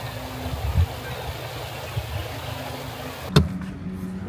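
A small river flowing, a soft steady rushing of water at moderate distance, with a brief sharp knock near the end.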